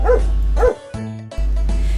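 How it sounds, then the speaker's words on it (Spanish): A dog barks close and loud, two quick barks followed by a longer low whining bark, then another bark, with no talking. "¿Quieren saber cómo hace un perro?"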